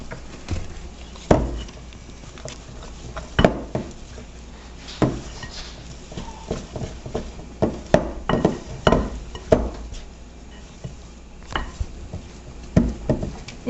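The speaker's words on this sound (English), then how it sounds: "And just stir this up." A spoon stirring milk into dumpling dough for chicken and dumplings, giving irregular clinks and scrapes against the bowl at close range, with short pauses between bursts of stirring.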